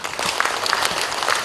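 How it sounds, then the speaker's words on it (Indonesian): A crowd applauds at an official event in Bali, dense continuous clapping that stays loud and even throughout with no speech over it. "Tepuk tangan"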